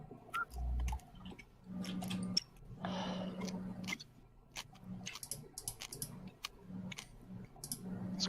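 A person munches food loudly close to the microphone during a tabletop Dungeons & Dragons game session, with irregular crunchy chewing bursts and clicky bites scattered across the stretch, some faint background voices.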